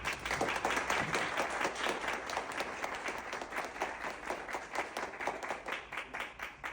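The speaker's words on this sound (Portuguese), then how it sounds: "Palmas para ele." An audience applauds Samuel with steady, moderately distant clapping that holds for several seconds and then thins toward the end.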